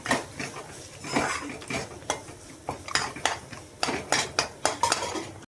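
Goat leg gravy with onion, tomato and ginger-garlic paste is stirred and sautéed in a pan: a brisk, steady run of metal spoon scrapes and clatters against the pan over a faint sizzle, close by and without talk.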